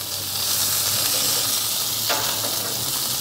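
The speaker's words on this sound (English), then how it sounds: "I'm going to give the bacon a quick crisp on both sides" Bacon crisps in a hot skillet with a loud, steady, close sizzle and hiss that runs unbroken throughout, with no talking over it.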